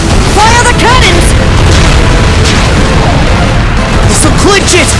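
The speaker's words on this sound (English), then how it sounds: "Fire the cannons!" Ship cannons fire during a naval battle in the video game Ys X: Nordics, loud booming blasts that rumble continuously under shouted voices and combat effects.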